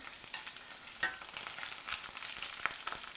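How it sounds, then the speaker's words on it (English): Vegetables fry in hot oil in a plant-based kitchen, a soft crackling sizzle with scattered sharper pops and spits over a low steady hiss. "It really starts to sizzle, so be careful. Look for splattering oil."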